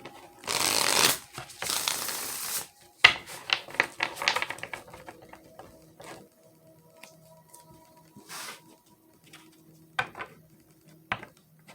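Light Seers tarot cards being shuffled, two long loud riffling bursts followed by a run of softer card slaps and taps, with quiet gaps between, close and with no talking.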